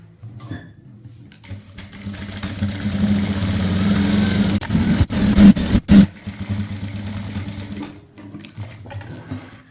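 A sewing machine runs a stitch on a chudithar top, a steady close mechanical whirr that builds for several seconds and then stops and starts in short bursts before fading out.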